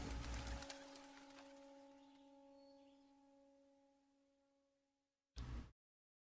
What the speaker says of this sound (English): I think Bird just got stolen by another bird